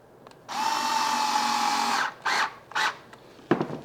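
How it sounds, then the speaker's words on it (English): Power drill driving a screw into an IKEA HEMNES two-drawer nightstand, a loud whirring run of about a second and a half followed by two short bursts and a final clatter, close up with no talk. "Take your screw and you screw it in here, making sure it's down and forward"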